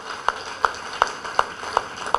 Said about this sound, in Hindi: एक बार हम सभी बीके वालों के लिए जोरदार तालियां बजाते हैं